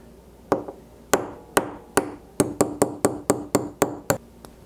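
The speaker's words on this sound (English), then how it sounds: "we'll go ahead and get a hammer and punch out. We got to drive that pin out of there." A hammer strikes a punch to drive a pin out of a Winchester 67 bolt-action rifle bolt, giving about a dozen sharp metallic taps, close and clear, spaced unevenly, then quickening into a steady run.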